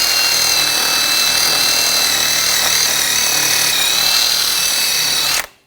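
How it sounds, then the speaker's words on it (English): A power-driven wire brush scours the front brake hub surface of a 2004-2009 Audi A4 Quattro, making a loud, continuous, bright grinding whine that runs steadily for over five seconds before cutting off abruptly. "Now, using a wire brush, I'm going to clean up the hub surface."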